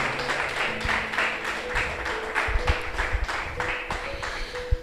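A church congregation claps in praise, producing a moderate, steady patter of many hands with some sharper individual claps near the end, a faint sustained tone running underneath.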